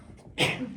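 A single short, sharp sneeze bursts out close by during an electrical engineering lecture, after a brief quiet moment.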